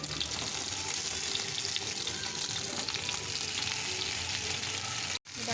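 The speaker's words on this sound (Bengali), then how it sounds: "আমি অল্প একটু তেলের মধ্যে ছেঁকে নিচ্ছি।" Tied paturi parcels fry in a little hot oil over a lowered gas flame, giving a dense, continuous sizzle that stays loud and even before one brief drop near the end.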